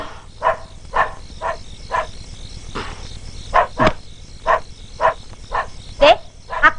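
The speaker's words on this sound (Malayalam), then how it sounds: "ദേ, ആ കൈസർ ഇടുന്ന് കുരയ്ക്കുന്നുണ്ട്." A dog named Kaiser barks repeatedly at a house, sharp separate barks at a steady rhythm over a constant background drone of insects or crickets.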